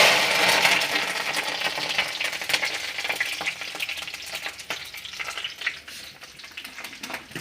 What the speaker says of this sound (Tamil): கடுகு பொரிஞ்சோடனே கருவேப்பிலை போட்டுக்கலாம்ப்பா.